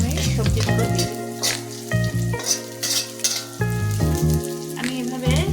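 Vegetables tipped into onions and green chilies frying in a new wok (kadai), giving a close, steady sizzle with scrapes and stirring clatter, under a tonal musical background.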